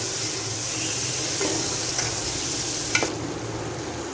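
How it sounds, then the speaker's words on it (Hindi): Chopped tomatoes frying in a pan with chicken and browned onions for Lahori murgh cholay, a continuous sizzle and hiss with stirring and a brief clink of a utensil, no talk. "टमाटर को भी आधा मिनट के लिए अच्छे से फ्राई कर लेती हूँ"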